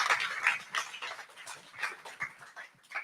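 A dog whimpers and yelps in short, uneven bursts during a political debate event, fairly close but not loud, with no talk over it.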